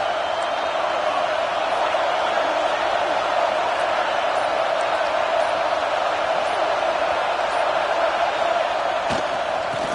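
A large stadium crowd at an American football game roars steadily and loudly as the home defense pins the opponents deep in their own end. The dense wall of cheering holds throughout, with no clear pauses.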